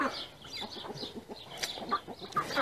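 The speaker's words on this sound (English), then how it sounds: "All my chickens are going insane." Backyard homestead chickens cluck in rapid, agitated bursts, close and moderately loud, with overlapping squawks through the short stretch.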